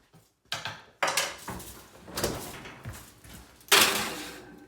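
Eggshells go into a heated home oven with a few sharp close knocks and clatters of the door and tray, four distinct bangs spaced about a second apart.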